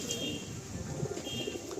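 Pet pigeons at a breeder's loft coo in low, soft murmurs that run steadily throughout, close by, with a faint high chirp now and then above the cooing.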